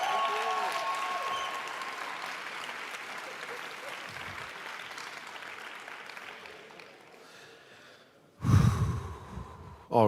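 An audience at an entrepreneurship conference gives a round of applause that gradually thins and fades, followed by a loud, close breathy gust of noise near the mic.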